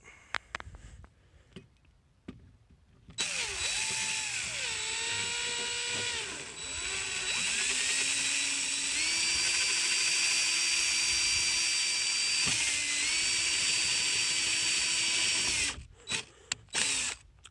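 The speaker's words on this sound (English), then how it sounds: "We're going to go ahead and drill those out." A power drill whines loudly and steadily for several seconds, its pitch dipping as the bit bites, then stops, with a few short bursts after.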